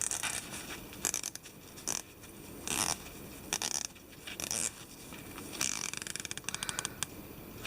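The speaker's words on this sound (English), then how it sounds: "just take the Pelagos out one more time. Just listen to the bezel." Ceramic diver's bezel on a Pelagos watch clicking as it is rotated, close and fairly quiet, in short bursts of rapid ratcheting clicks separated by brief pauses.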